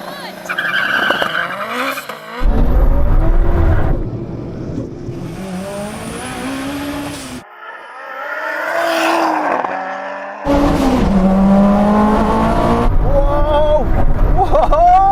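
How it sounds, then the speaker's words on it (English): A tuned 700-horsepower race car, such as a Supra, RX-7 or Porsche 911 Carrera T, launching in a drag race, with loud engine revving, rising gear pulls and tire squeal, sharp shifts between surges, alongside excited talking. "I let the boost build, and then I release the paddle, and the car will just launch"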